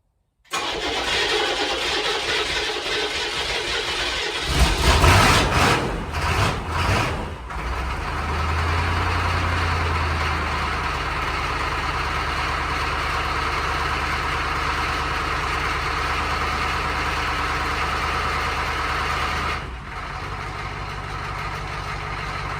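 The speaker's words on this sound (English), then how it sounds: "Starts pretty easy, I'd say, without being plugged in." A 6.2 Detroit Diesel Suburban that has sat for about a month is cold-started on new batteries and a new starter, cranking for a few seconds, catching, then settling into a loud, steady, close diesel idle.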